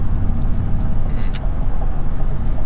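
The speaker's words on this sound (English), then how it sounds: "Getting some weird wind noise. You guys hear that?" A low, steady rumble and roar inside a moving 2022 Toyota Tundra TRD Pro hybrid on the highway, buffeting wind and road noise filling the cabin, with a few faint clicks.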